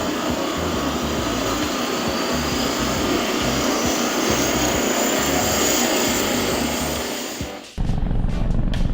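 A toy Fireman Sam Wallaby helicopter runs its motor with a loud, steady whirring buzz that holds for several seconds, then dips and cuts off, followed by a short clattering noise.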